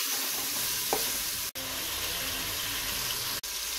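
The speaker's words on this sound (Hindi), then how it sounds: "अदरक लहसुन डाल के हम तकरीबन इसको 3 से 4 मिनट तक भूनेंगे" Beef pieces frying in a pan with ginger garlic paste give a steady, close sizzle and crackle that runs through the clip without a break, with no talk over it.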